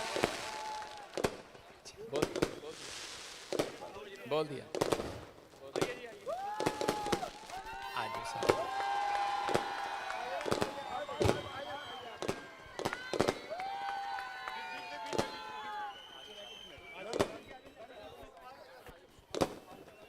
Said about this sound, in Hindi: जोर से ताड़ी बजाएं इनके लिए, जोर से, जोरदार तालियों के साथ